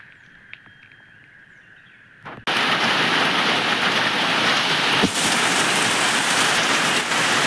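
A quiet outdoor scene in Konkan with faint birdsong, then a sudden loud onset of heavy May rain pouring steadily and roaring for the rest of the clip.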